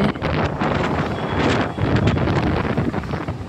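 Wind gusting along the seashore at Kanyakumari on an evening with crowds and big waves: a loud, steady rush buffeting the microphone with slight swells, no talk.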